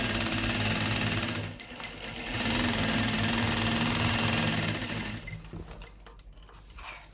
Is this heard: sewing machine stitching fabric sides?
yes